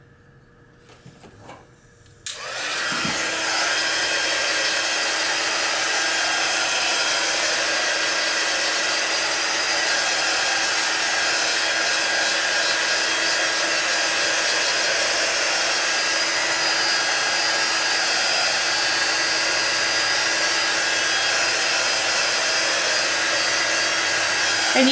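A hair dryer switches on after a couple of seconds of quiet and runs steadily and loudly, close by, drying a curled craft piece freshly coated in Mod Podge glue, with no talk over the constant blowing whine.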